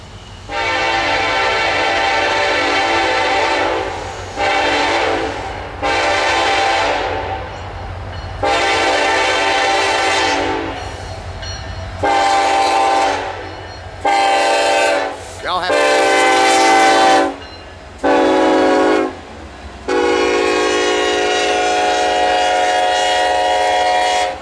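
Norfolk Southern NS203 intermodal freight train led by Dash 9, Dash 8 and SD70 locomotives sounding its horn in a series of loud, long and short blasts as it approaches and passes close by.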